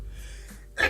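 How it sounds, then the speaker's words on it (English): A single sharp sneeze goes straight into a close microphone, loud and bursty at the very end after a quiet breathy lead-in. "I be sneezing right into the microphone"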